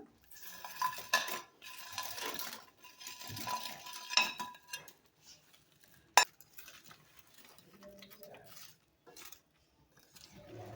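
Crisp fried bread pieces are stirred into gravy for a Salem-style roti roast. Bursts of spoon scraping and metal clinks against the pan come in several rounds, with one sharp clink midway, then quieter stirring.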